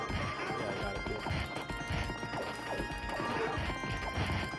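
Horse sounds from the Knights of the Round arcade game: steady galloping hoofbeats mixed with repeated sword-strike crashes and busy game effects, loud and continuous throughout.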